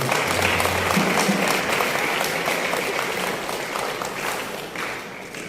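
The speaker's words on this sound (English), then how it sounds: "a resounding round of applause for him" A crowd at a Brazil Independence bicentenary celebration claps steadily in sustained applause, dense and loud throughout, gradually tapering slightly toward the end.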